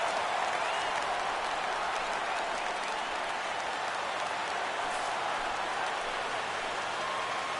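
A stadium crowd in the MLB The Show 17 baseball game makes a dense, continuous roar of cheering and clapping. It stays steady and moderately loud for the whole stretch, with no talking over it.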